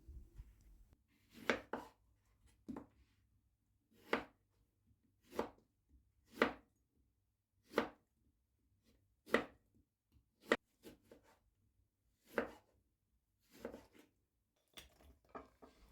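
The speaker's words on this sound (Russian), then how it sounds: "берем 1 целый апельсин, режем его кусочками вместе с кожурой" A whole orange with its peel being sliced into pieces with a knife on a board: about a dozen distinct, crisp chopping strokes at uneven intervals, close and isolated with quiet gaps between.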